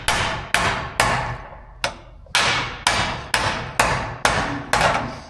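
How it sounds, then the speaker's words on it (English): Metal is hammered by hand into a bowl on a dishing stump to shrink and stretch it, ten loud, sharp blows landing in a steady rhythm, each ringing briefly before the next. "I'm just sitting there and hammering it in the bowl"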